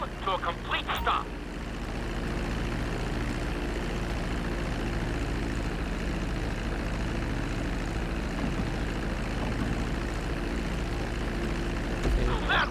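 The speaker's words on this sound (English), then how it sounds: "Now let's get the plane off the runway." A propeller airplane in GTA 5 taxis on the runway, its engine drone steady and fairly loud. Short game voice lines or announcements sit at the start and end.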